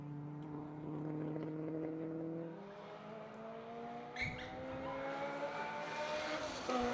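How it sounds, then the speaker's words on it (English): A Honda S2000 race car at Buttonwillow raceway, its engine note rising steadily through the gears at moderate distance, with a second car following and a brief tire or shift transient midway. "That is the Pikachu-powered PhD Racing Honda S2000, followed by Fiat's version of an S2000, the 124 Abarth."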